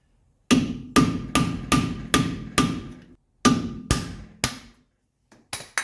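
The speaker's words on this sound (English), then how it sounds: "let's go ahead and get the grease cap off. We're just going to take a little screwdriver right here." Sharp metal taps strike a wheel hub grease cap on a 1985 wagon as a small screwdriver works it loose, about ten close, loud whacks in a steady rhythm with a brief pause midway and no talk.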